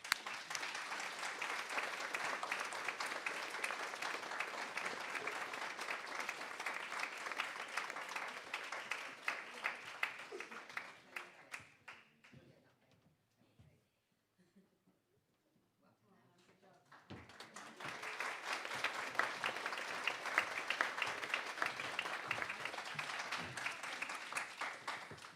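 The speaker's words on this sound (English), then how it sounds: "please give a huge round of applause for Elsie Cullen" An audience at a youth awards ceremony applauds a nominee, loud sustained clapping that fades into near silence midway, then swells again into a second long round of applause.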